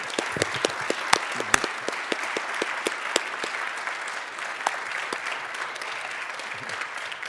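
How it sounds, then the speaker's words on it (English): Audience at the Hickel and Egan Awards 2024 ceremony giving a round of applause, steady dense clapping with a few sharper nearby claps standing out, lasting several seconds. "I would just like us all to give a round of applause to Annetta in particular"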